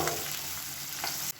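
Chopped onion and a few garlic cloves fry in a pan with steady, close sizzling and crackle, briefly stirred, then cutting off abruptly near the end; no talk.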